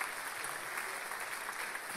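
A church congregation applauds, a steady wash of many hands clapping at moderate volume, continuing evenly throughout with no voices standing out.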